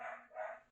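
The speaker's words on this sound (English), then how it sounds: "Sorry for my dog barking in the background," A dog barks twice in the background, two short muffled yelps in quick succession heard alone without talk.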